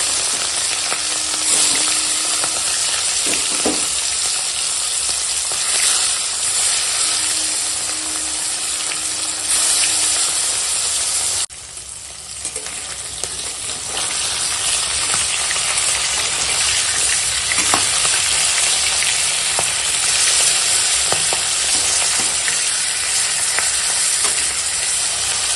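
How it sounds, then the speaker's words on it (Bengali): Fish frying in hot oil in a home kitchen, a continuous close crackling sizzle with bursts of spatter, a short dip midway before the frying noise returns at full strength; no one talks. "তেল গরম হয়ে গেছে, এখন মাছ ভেজে নেবো।"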